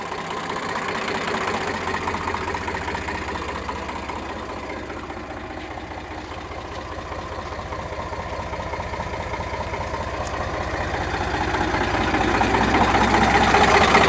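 An Eicher 368 tractor engine idles steadily and close, a continuous low rumble with a faint rapid knock that swells slightly louder toward the end, with no talking.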